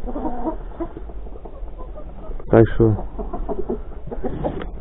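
Hens and a rooster clucking in a coop of about nineteen laying hens, short bursts of clucks rising midway and again near the end, moderately close, while someone talks over them.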